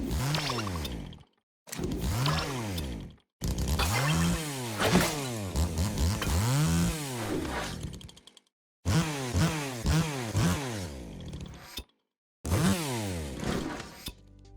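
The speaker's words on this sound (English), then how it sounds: "the sound of that chainsaw revving is really unique compared to the other skins we have in Valorant" The Bubblegum Deathwish knife in Valorant revs its chainsaw in a string of loud, rising and falling motor whines, several bursts split by short silent gaps.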